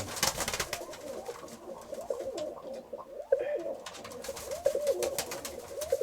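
Several pigeons coo repeatedly, each call a soft rolling phrase. The birds sit close against a light background of rustling and scattered clicks.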